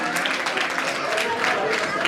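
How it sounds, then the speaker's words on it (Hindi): Loud applause from the audience at a dance drama, a steady wash of clapping with a voice speaking over it. "जोरदार तालियां"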